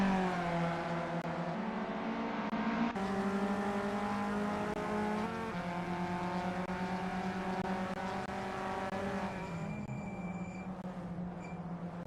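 VW Up Cup race cars at a 2025 SRA race, several engines droning steadily on track with rising and falling revs as they pass and shift, loud and continuous, with no voices.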